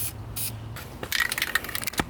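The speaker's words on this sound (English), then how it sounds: "I'm just testing to see like what the spray pattern is on this." Short bursts of aerosol spray, a couple of hissing blasts with gaps between them, then a longer rattly spray near the mic.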